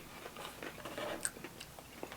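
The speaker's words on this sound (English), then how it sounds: "My nacho fries have crunch." Crunchy Taco Bell nacho fries being bitten and chewed close up, a series of soft, irregular crunches and mouth sounds at low volume with no talking.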